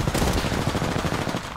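Rapid automatic gunfire from Apex Legends, a loud, dense burst of shots in quick rhythm running the full length, close and dominant.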